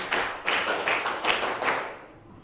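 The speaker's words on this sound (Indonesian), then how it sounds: "tepuk tangan dulu untuk kelas 9C" A school class of ninth graders claps hands together in a classroom, a dense burst of applause with a few swelling pulses over about two seconds before tapering off.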